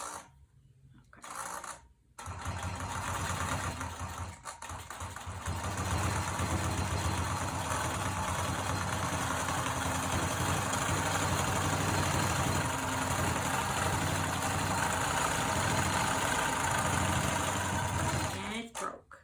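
Sewing machine stitching a dragon-scale baby quilt, a steady, fast mechanical whir that runs near and loud for most of the stretch after a few brief starts and stops.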